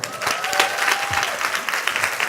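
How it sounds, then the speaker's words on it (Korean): Church congregation at Omega Church applauding during a sermon, a short burst of steady crowd clapping with a faint tone and murmur underneath. "박수 한번 주십시오"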